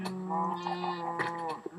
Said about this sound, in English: Is there a baby sheep in there?